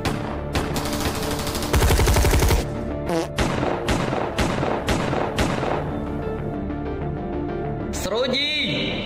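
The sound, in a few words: gunfire exchange with Dutch soldiers in a war drama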